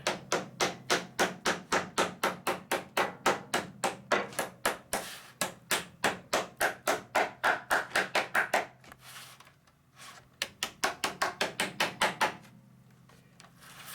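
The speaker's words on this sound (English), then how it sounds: "Probably hammer it." Rapid, steady hammer blows ring on a metal sheet being bent over the corner of a beehive top cover, dozens of evenly spaced strikes, a brief pause, then another quick burst of hammering.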